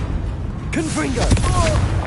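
A Confringo blast spell in a Harry Potter game lands as a sudden booming burst, followed by swooping magical whooshes and a brief crackle, rising abruptly partway through after a quieter lead-in.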